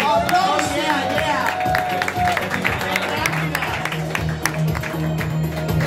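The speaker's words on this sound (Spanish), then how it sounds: "¡Aplausos, aplausos!" An audience claps and cheers on a televised Spanish prize-draw show, a steady burst of applause under a presenter's voice and other chatter throughout.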